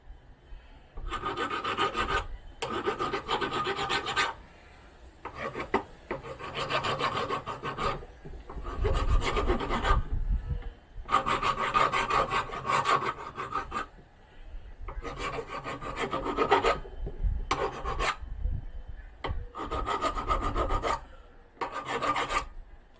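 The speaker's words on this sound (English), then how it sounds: "Probably do the rest with the grinder." Grinder working metal on a shotshell reloader handle, a steady abrasive rasp in repeated passes of several seconds each with short breaks between, close and fairly loud, no talk.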